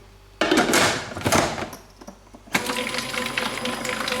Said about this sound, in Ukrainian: Беремо наших 10 білків, ставимо, включаємо їх і збиваємо в стійкі піки.